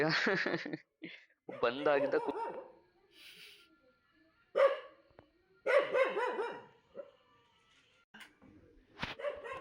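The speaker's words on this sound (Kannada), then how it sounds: "ಒಳಗಡೆ ಈ ಒಂದು ಆ ನಾಯಿ ಕೂಗ್ತಾ ಇರೋದು ನೋಡಿ" A dog barks inside a house in a few short, separate bursts between stretches of nearby conversation.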